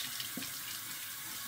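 Water runs steadily from a tap or onto a wet surface while a Naniwa Gouken Fuji 8k sharpening stone is in use, a continuous close hiss with no voices.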